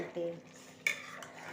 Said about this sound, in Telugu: ఒక్కసారి కలుపుకొని మూత పెట్టేద్దాం.